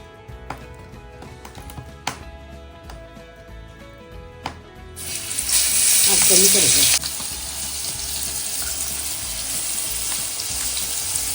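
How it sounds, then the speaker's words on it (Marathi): Flour-and-semolina-coated surmai fish slides into hot oil, which bursts into a loud, bright hiss for a couple of seconds and then settles into a continuous, quieter frying sizzle, following a few earlier clinks. "आता मासे यात अल्टी बल्टी करून ह्या गरम तेलात फ्राय करत सोडायचे"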